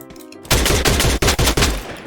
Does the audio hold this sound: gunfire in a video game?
yes